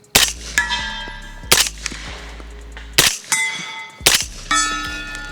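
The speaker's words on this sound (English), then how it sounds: "300 Blackout is awesome to shoot. Suppress, subsonic." Four suppressed subsonic 300 Blackout rifle shots, each a sharp near crack followed by a ringing metallic clang, spaced about a second apart with no talk.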